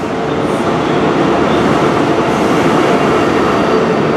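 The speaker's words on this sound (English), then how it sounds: "there goes the HST off to Penzance" An HST high speed train rumbles away from Plymouth toward Penzance, a loud, continuous roar of engines and rolling wheels with steady rail noise close by.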